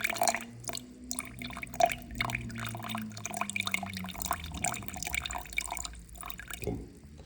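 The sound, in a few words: water poured into flour and starter for sourdough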